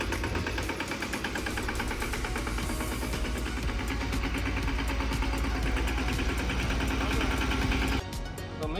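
A 2025 Ravindra mini tractor engine runs steadily and loudly up close through a tight turn, with a dense continuous chugging drone that cuts off abruptly near the end.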